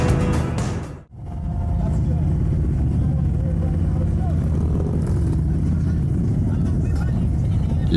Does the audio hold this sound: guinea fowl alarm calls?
no